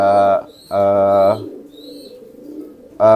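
Pigeons give deep, resonant cooing calls nearby, two long loud coos followed by a softer murmur, then the start of another call.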